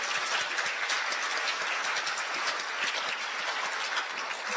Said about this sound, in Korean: 어떻게 박수 부탁드릴까요?